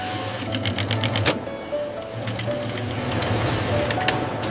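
Towels being stitched on an industrial sewing machine in a home textile factory, a loud close continuous whirring drone with rapid clicking stitch bursts and no voices.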